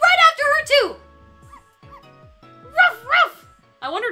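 Dog barks in the Ghost Trick: Phantom Detective game, a few short yappy bursts near the start and again toward the end, with soft electronic blips in the quieter gap between.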